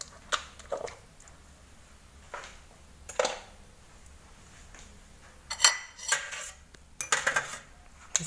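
Scattered clinks and scrapes of a utensil against a plate and bowl as ground spice paste for pecel lele with sambal is lifted out and set aside, with quiet stretches between the sounds.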